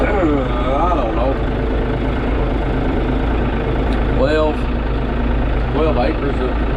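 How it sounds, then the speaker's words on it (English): A tractor engine runs with a steady low rumble while being driven through a muddy sweet corn field, loud and close throughout, with voices talking over it. "I'm riding the tractor because I'm too lazy to walk over here in the mud."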